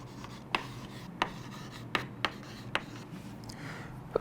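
Chalk or marker writing on a board during a physics lesson, with scattered sharp taps and scratchy strokes against a quiet room hum.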